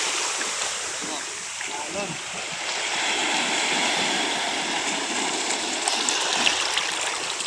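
Rough sea water after a typhoon surges and washes continuously around a small fishing boat during net fishing, a steady rushing roar with voices talking over it.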